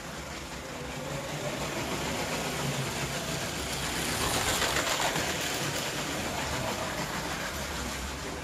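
A small motorised Lego City toy train runs along its plastic track, giving a steady, continuous whirring hum with no pauses and no voices.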